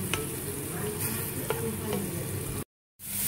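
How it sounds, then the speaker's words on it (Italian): Chopped vegetables sizzle and fry in a pan as the base for a Milanese tripe stew, a steady close crackle with a few stirring scrapes, cut short by a brief silence near the end. "Intanto le verdure stanno rosolando."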